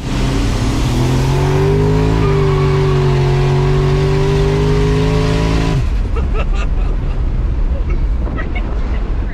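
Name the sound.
Mercury Marauder with Holley accelerating in race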